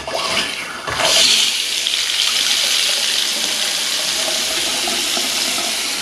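Hot water gushes steadily from a newly installed 19-inch drop-in bathroom sink faucet, a bright, close hiss that starts with a brief burst and holds at an even rush, no talking.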